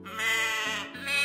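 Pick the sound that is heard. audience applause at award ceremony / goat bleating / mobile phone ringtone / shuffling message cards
goat bleating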